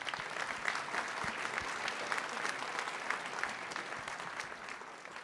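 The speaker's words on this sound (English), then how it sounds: "A round of applause for our panelists." An audience at a community outlook breakfast gives a sustained round of applause for the panelists, dense steady clapping that stays even throughout and tapers slightly at the end.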